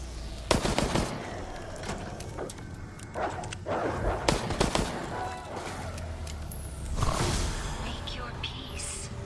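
Gunfire in a video game, a series of sharp shots scattered over a steady rumbling game soundscape with engine-like noise, loud and continuous throughout.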